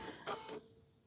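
A sewing machine stitches quilt fabric in one brief mechanical whirring burst that stops abruptly, close by and moderately loud, followed by quiet.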